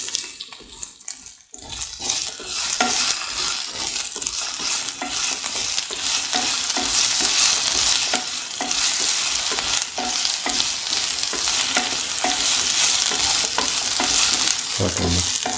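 Potato and eggplant stir-fry sizzles loudly and steadily in a pan, close up, with repeated stirring scrapes throughout after a brief quieter moment at the start.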